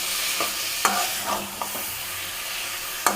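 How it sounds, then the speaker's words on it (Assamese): Goat meat for mutton curry fries in a hot pan under a continuous close sizzle. A spoon scrapes and knocks against the pan at irregular intervals as the meat is stirred, and no one speaks. "এয়া ইয়াক ধুনীয়াকৈ এনেকৈ অলপমান লৰাই দিছোঁ এয়া এনেকৈ অলপ টাইম আমি ফ্ৰাই কৰি থাকিম"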